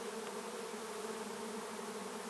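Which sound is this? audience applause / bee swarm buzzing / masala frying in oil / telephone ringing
bee swarm buzzing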